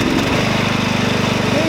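A Texas TTC102H ride-on lawnmower engine runs close by with a loud, steady, rapid chugging drone throughout the brief stretch.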